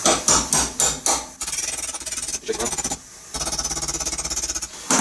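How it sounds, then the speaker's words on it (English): A hammer drives a small chisel punch against a lower control arm pin, ringing out as loud, close metallic blows in rapid bursts, some slower single strikes, then fast rattling runs, with no speech. "I just got like a little chisel punch, I'll try and get it off with that."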